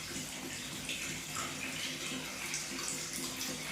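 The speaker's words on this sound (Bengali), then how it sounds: "যেদিকে জলটা পড়ছে ওদিকে গিয়ে দাঁড়াবে।" Steady flowing water pours and splashes continuously where a pet parrot bathes, a close, even rushing stream with no voices.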